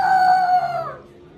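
A person imitating a rooster's crow, one drawn-out nasal call held close and loud, then sliding down and fading out, with no other sounds.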